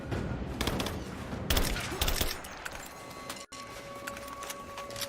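Rapid bursts of gunfire in Rise of the Tomb Raider, dense and loud at first, then thinning into scattered shots over a busy game backdrop.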